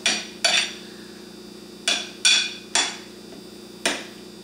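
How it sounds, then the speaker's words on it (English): A utensil knocks against a bowl while tuna salad is mixed, giving six sharp, separate clinks at uneven intervals over a quiet, steady background hum. "mix well"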